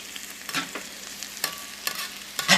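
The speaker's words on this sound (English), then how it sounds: "I've just put in the chopped up bacon" Chopped bacon fries in a pan over low heat, giving a quiet background sizzle broken by several sharp scraping stirs, with no talking.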